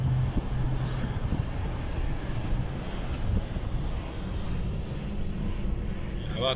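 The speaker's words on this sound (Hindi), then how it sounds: "हवा क्रॉस हो रही है, उसकी आवाज आ रही है श्वंग श्वंग।" Steady wind rushing past a microphone while walking outdoors on Al Hudayriat Island in Abu Dhabi, a continuous broadband roar with faint background activity throughout.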